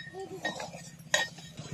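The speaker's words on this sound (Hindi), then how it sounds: "अभी ढक्कन हटा करके दाल चेक कर लेते हैं।" A lid clinks as it is lifted off a pot of boiling dal with pumpkin cooking over a wood fire in a village clay stove, with brief metallic chinks amid low background noise.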